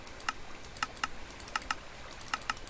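Crisp computer clicks come in quick pairs and small clusters, close and quiet, spread irregularly across a hushed room.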